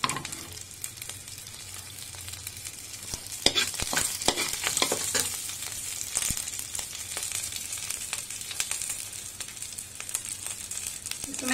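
Potatoes fry in oil in a pan over raised gas heat for honey chilli potato, giving a steady, close sizzle with scraping stirring strokes throughout.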